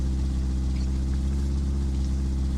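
A damaged vehicle engine runs with a steady, heavy low drone that holds evenly throughout, close and loud with no voices over it.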